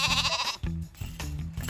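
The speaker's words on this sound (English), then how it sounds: "And there's a little baby sheep." A baby sheep at a small-town ranch bleats repeatedly in wavering, nasal cries, close and loud, with no talking in between.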